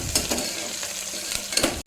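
Onions, green chillies and curry leaves fry in a pan for a mutton keema gravy, giving a steady close sizzle with stirring scrapes and a few louder crackling bursts before it cuts off.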